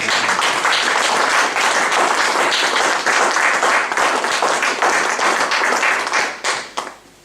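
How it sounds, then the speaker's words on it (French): A church congregation applauds the Lord, with dense, loud, sustained clapping from many hands that fills the room and then tapers off into scattered claps at the end. "Est-ce que nous pouvons acclamer le Seigneur s'il vous plaît?"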